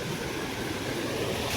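A swollen mountain stream, the main gully below a village in the Kedarnath area after heavy rain, rushing in a dense, loud, continuous roar with no break and no voices.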